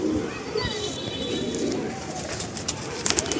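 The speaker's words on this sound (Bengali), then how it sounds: "দেখো দাদা পায়রা ছেড়ে দিল একদম" Tournament pigeons of the Andra, Kalanka and Phulshira breeds coo and call near the listener as they are released, a steady murmur of soft bird sounds under faint background voices.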